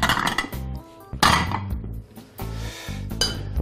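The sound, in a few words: collecting leftover dishes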